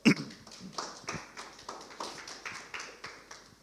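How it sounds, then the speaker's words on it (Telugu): A church congregation claps in a slow, even rhythm, about a dozen separate soft claps at a moderate distance. "గట్టిగా చప్పట్లు కూడా వచ్చా."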